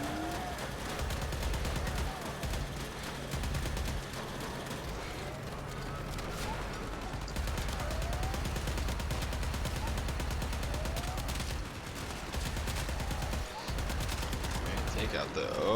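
Enemy gunfire and explosive blasts from the video game Warframe, with rapid bursts and heavy impacts packed densely over a constant low rumble throughout, backed by game music and effects.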